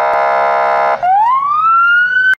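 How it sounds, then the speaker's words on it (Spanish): A loud police siren sounds up close: a steady blaring tone for about a second, then a wail that sweeps upward and holds before cutting off abruptly. "Cuando escuchamos la sirena de la policía"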